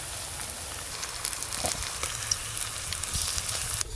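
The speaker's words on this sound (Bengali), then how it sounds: "দেখতে দেখতে এই বড়াগুলো ভাজা হয়ে গেল" Poppy seed fritters fry in hot oil, giving a steady close sizzle and hiss with small crackling pops throughout.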